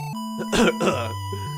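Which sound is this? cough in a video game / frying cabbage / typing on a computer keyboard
cough in a video game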